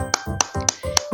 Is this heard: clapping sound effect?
yes